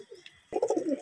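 After a quiet moment, a Murshidabadi Giribaz pigeon breaks into a brief, loud, close burst of rolling coos.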